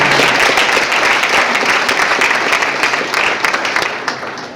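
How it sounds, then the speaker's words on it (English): An audience claps loudly and steadily for a young public speaker at an award event, dense applause filling the room and tapering off toward the end. "You can clap for her."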